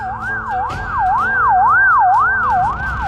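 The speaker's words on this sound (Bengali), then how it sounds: "আরে অ্যাম্বুলেন্স, কোনো দুর্ঘটনা ঘটছে নাকি?" A wailing ambulance siren rises and falls in a steady sweeping cycle, loud and close on a road with bus traffic, the engine rumble of vehicles running underneath.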